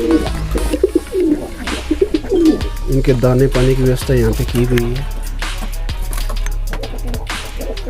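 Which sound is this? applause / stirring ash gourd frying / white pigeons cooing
white pigeons cooing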